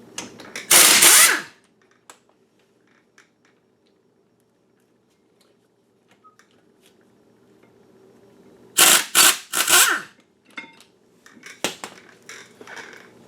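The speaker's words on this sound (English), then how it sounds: "we get two 17mm bolts to take this carrier off" A power tool spins out the two 17mm bolts on the brake carrier of a 1997 Audi A4, in two loud, separate bursts about eight seconds apart with near silence and faint clinks between them.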